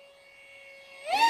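An RC Powers F-16 model jet flies past with a steady, thin electric whine that rises in pitch and swells louder toward the end as it sweeps overhead, with no voices.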